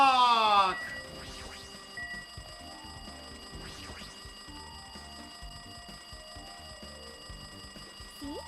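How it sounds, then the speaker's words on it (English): A ringing phone in the Danganronpa 2 video game opens with a loud, bright trilling burst, then quieter ringing continues far in the background with soft game sounds and a voice speaking over it. "It looks like that phone is ringing."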